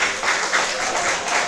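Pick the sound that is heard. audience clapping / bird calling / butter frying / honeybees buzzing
audience clapping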